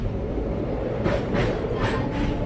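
A continuous low rumble of a train rolling on rails, heard from inside a carriage, with a few rhythmic clacks of wheels passing over joints.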